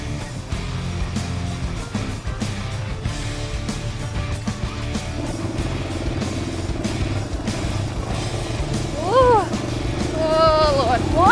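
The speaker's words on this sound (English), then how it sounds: "The engine braking is helping a lot, just keeping it in first gear." An off-road dirt bike engine runs steadily in first gear while climbing a mountain, a continuous rough drone with clattering, and a voice talks over it near the end.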